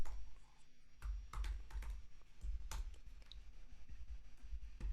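Typing on a computer keyboard while working in a music session, a steady run of close, crisp key clicks with irregular rhythm and a few heavier strokes, no voices.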